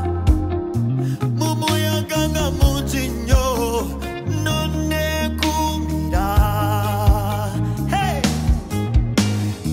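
Doubled overdriven electric guitar parts spread wide across the stereo field, playing a dense, sustained rock riff with drums and bass underneath, loud and continuous throughout.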